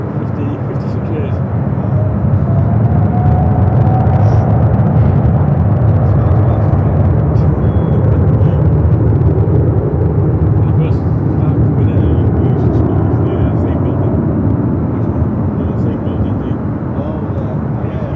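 An ANA jet airliner departing Los Angeles International for Tokyo Narita, its broad engine roar steady and loud for the whole stretch, with a voice talking over it.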